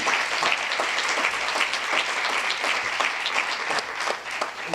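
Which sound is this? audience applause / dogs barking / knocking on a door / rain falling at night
audience applause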